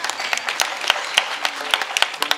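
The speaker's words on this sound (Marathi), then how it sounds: "बसल्यावर टाळ्या वाजवा, टाळ्या वाजवा." An audience at a Navratri kirtan gathering in Latur claps in sharp, uneven bursts. The claps sound fairly close, with scattered hands joining in over a murmuring crowd.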